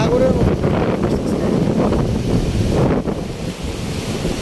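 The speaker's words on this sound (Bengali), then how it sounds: "পুরো সাগরের মতো ঢেউ আছে" Heavy waves and strong wind sweep across the open water of Hakaluki haor wetland, a continuous loud roar of surf and buffeting wind noise throughout, with a brief lull near the end.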